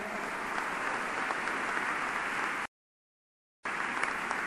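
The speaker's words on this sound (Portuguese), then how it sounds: "Pode aplaudir o Senhor." A church congregation applauds in steady, fairly distant clapping that cuts out abruptly for about a second, then resumes.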